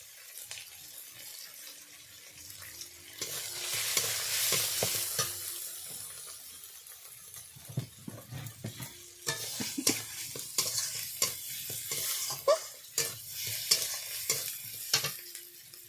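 Chopped tomato, turmeric and masala stir-fried in a pan with a splash of water, giving a steady sizzle with repeated scraping stirs, loud and close, swelling midway and then breaking into sharper clattering strokes.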